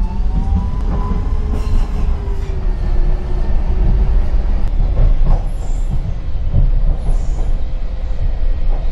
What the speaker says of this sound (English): This tram terminates here.